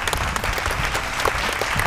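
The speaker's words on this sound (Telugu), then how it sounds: "సో ఒక్కసారి గట్టిగా క్లాప్స్ కొట్టండి." Audience clapping loudly at an outdoor quiz event at NTR Gardens, a dense steady burst of many hands carrying on without a break for about two seconds, with no voices standing out.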